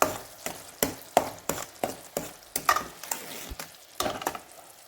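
Puliyogare gojju sizzling in oil as it is stirred, with a steady frying hiss broken by about a dozen regular scraping strokes of the spoon against the pan, close and fairly loud, no talking.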